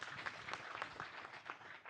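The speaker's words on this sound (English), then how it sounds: "Please give applause to them." An audience at a talk on Indonesia's deep ocean gives a short round of applause, steady dense clapping from a roomful of people, fairly faint and without talk over it.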